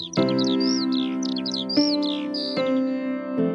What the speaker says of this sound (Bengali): সকাল সকাল পাখির কিচিরমিচির শব্দে ঘুমটা ভেঙে গেল।